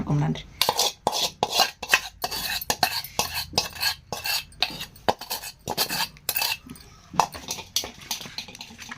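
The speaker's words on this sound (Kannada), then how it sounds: "ಈಗ ಈ ಒಗ್ಗರಣೆನ ಇದ್ರೊಳಗೆ ಹಾಕಿ ಮಿಕ್ಸ್" A spoon scrapes and clinks against a metal pot in quick repeated strokes, stirring tempering into Betageri chutney steadily and close by.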